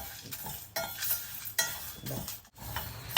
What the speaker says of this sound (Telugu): చూసారా దోరగా వేయించుకోవాలి ఇలా వేగుతూనే ఉన్నాయి